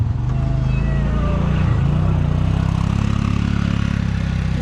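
A vehicle driving around a farm gives a steady, close engine drone that stays even in pitch and loudness throughout, with no clear speech over it.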